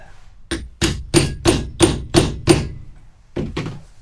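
Sharp hammer blows drive a fork seal into a BMW R1100GS motorcycle fork, seven evenly spaced strikes followed by two more after a short pause, close and loud.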